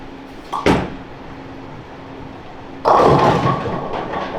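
A Columbia 300 Dynamic Swing Hybrid bowling ball on a lane with medium to heavy oil gives a sharp thud on release, then a louder rumbling crash about two seconds later.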